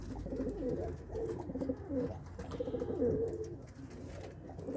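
Several pigeons coo together in a loft in Faisalabad, low rolling coos overlapping continuously and close by, steady throughout with no talk.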